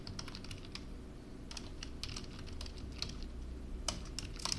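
Rapid clicking of keys on a computer keyboard as an equation is typed, in uneven bursts of taps close to the microphone over a low background hum, with no talking.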